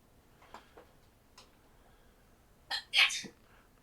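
A single sharp sneeze bursts out suddenly near the end, close and brief, after a stretch of quiet room tone with a few faint clicks during a tabletop roleplaying game session.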